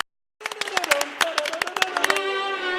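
Teenagers clap out a rhythm from a music section in rehearsal, a run of sharp, fairly close claps in an uneven pattern, with a sustained pitched tone running beneath them.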